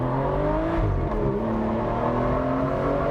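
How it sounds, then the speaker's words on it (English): The AM28 V12 engine of a 2014 Aston Martin Vanquish Volante revs loudly and continuously, its smooth multi-toned roar holding steady with a brief dip and rise in pitch. "nothing beats a V12, but this V12 in particular, the AM28 V12,"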